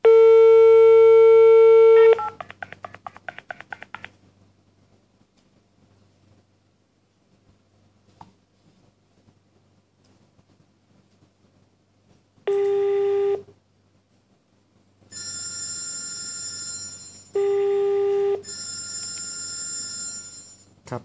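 Tones from an NEC SL1000 IP phone: a long steady beep, a quick run of dialing pulses, then silence before repeated ringback bursts of layered tones, loud and close with no talking.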